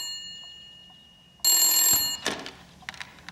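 A telephone rings in a Hindi-dubbed South Indian film scene, starting as a faint ringtone and then turning into a sudden loud ring that stops abruptly, followed by a few scattered clicks and movement sounds.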